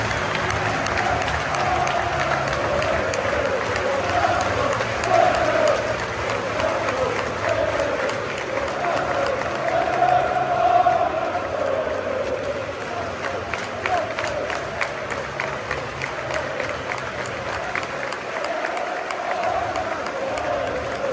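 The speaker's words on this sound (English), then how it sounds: "this was the real audio that occurred when Newcastle fans were clapping the players off" Newcastle United fans clapping the players off the pitch at the end of a football match, a steady wash of stadium applause from a large crowd with some cheering, continuous and distant.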